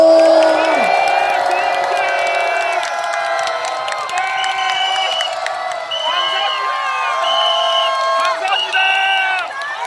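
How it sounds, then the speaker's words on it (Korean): A crowd at a political rally in Seoul cheers loudly, with whoops, shouts and some clapping; excited voices overlap in a dense, sustained roar that swells and dips throughout. "박수 한번 부탁드리겠습니다"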